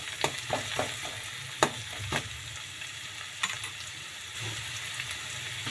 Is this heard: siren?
no